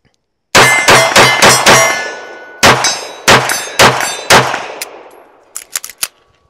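A ported CZ pistol fires a rapid string of loud, close gunshots, first in a quick cluster of five, then several more spaced shots, each ringing out with a metallic clang and decaying echo before fainter hits at the end.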